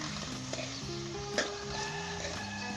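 Bitter gourd frying uncovered in a spice masala for a Pakistani chana daal and karela curry, with a steady soft sizzle and the scrape of stirring throughout.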